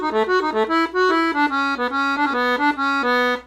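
A 120 bass accordion plays a quick arpeggio phrase, with distinct stepping notes in a steady rhythm, close and loud with no voices.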